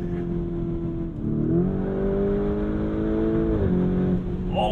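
A 2021 Lamborghini Urus engine and exhaust rise in pitch as the SUV accelerates, a steady loud droning roar with a brief shift partway through.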